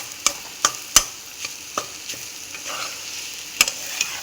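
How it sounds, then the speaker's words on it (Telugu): A spoon mashes and stirs boiled egg masala fry in a hot pan, making sharp scraping knocks at irregular intervals over a faint steady sizzle, close by and with no talk. "స్మాష్ చేసుకొని మసాలా అంతా కలుపుకోవాలి."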